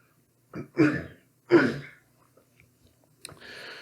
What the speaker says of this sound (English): Apparently forgot to clear my throat there.